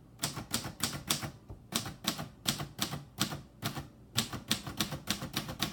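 Keys clack in a steady run on a 1955 Royal Quiet DeLuxe manual typewriter, crisp close strikes in quick bursts with brief pauses between groups.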